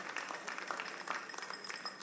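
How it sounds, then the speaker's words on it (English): Audience applause at a televised national science and maths quiz final in Ghana, a steady broadband clapping wash holding evenly throughout at moderate distance with no voices. "A round of applause to Newmont Ghana."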